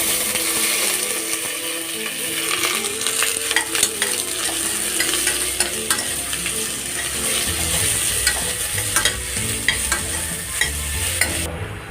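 Onions sautéing with green chillies, curry leaves and spices for a coconut-milk egg curry: steady sizzling frying with frequent scraping and clinking stirring strokes, close and fairly loud throughout, no talking.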